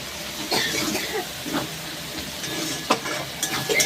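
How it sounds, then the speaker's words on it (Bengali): Spice paste sizzles and fries in a pan for vegetarian chana masala, a steady close hiss with occasional stirring scrapes and small crackles. "এইবার মশলার পেস্টটা দিয়ে দেব, দিয়ে আবার কিছুক্ষণ কষিয়ে নেব।"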